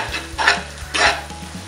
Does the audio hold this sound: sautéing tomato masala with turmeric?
yes